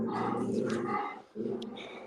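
A dog gives two rough, throaty barking bursts nearby, each lasting about a second, separated by a short pause against a steady indoor background.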